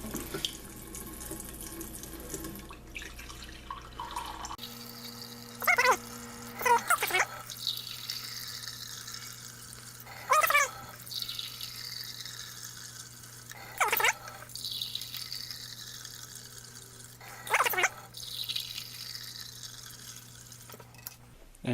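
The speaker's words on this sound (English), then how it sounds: "now let's get back to the filling of the water" Cold water runs from a kitchen tap into a deep saucepan in a steady, continuous gush, with a few brief louder splashes and clunks as the pot shifts; no talking.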